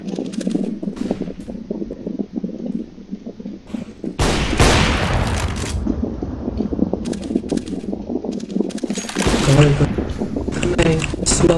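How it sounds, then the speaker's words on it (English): A flashbang grenade goes off in Counter-Strike: Global Offensive competitive play, giving a loud, broad blast, then a second burst later, over steady game noise and players talking. "Flashbang."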